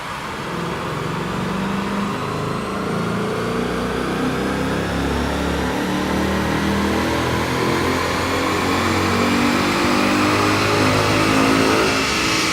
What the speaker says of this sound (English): let's strap this Mustang to one of our chassis dynos and see what we get